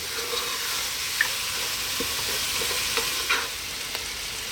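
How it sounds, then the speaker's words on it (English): Lamb, onions, garlic and celery frying over medium heat in a pan for stew, a steady hissing sizzle with occasional soft stirring clicks, close and continuous. "We're now going to go on a medium heat for about 6 minutes. Give it a stir every now and then."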